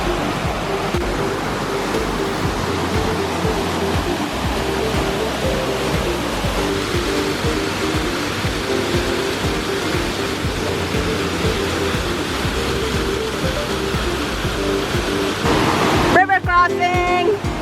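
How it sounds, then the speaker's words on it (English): Small waterfalls along a trail on a rainy day rush in a loud, steady wash of falling water that fills the whole scene, close by, with a brief tonal burst near the end. "so far there's been already a ton of waterfalls, short, small waterfalls"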